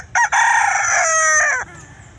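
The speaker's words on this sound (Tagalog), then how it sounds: "Ito pong manok." A rooster, father of a brown hen's chicks in a backyard flock, gives one loud, close crow lasting well over a second, with a brief break near the start and a falling tail at the end.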